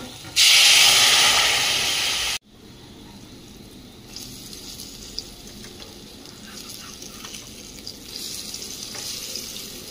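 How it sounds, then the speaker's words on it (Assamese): Potatoes frying in a home kitchen pan give a loud burst of hissing steam when they go in, which drops off suddenly to a softer, steady sizzle with light stirring. "আলুখিনি অলপমান ভাজি ল'ম"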